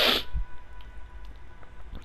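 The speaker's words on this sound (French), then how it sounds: "Alors, excusez-moi, je vais éternuer." A single sharp sneeze bursts out at the start, loud and close, then fades into quiet room tone.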